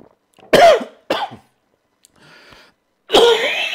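A man coughs several times in short, loud, close bursts with brief pauses between, on a call-in show.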